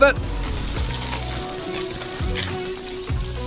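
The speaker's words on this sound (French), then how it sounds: "Versez encore du caramel rose vif." Hot pink caramel pours over popcorn in a bowl, giving a continuous loud sizzling, crackling hiss with soft sticky bubbling underneath throughout.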